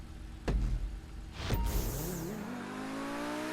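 A Tempesta supercar, a Lamborghini-like car in GTA V Online, unmodified, roars past in two loud whooshing bursts, then its engine revs steadily upward as it accelerates away.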